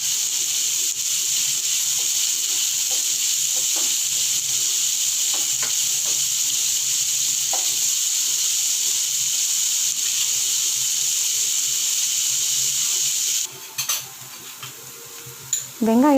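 Curry leaves crackle and sizzle steadily in a pan of browning onions for a chicken gravy made with coconut milk, with occasional stirring scrapes, before the hiss fades and a few clinks and a brief voice close it out.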